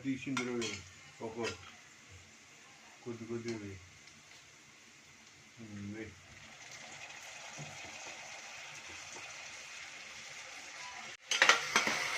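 Cooked pasta is tossed and mixed in a pan, with utensils clinking and scraping against the metal in short bursts, then a steady soft sizzle and a sharp clatter at the end; no one speaks over it.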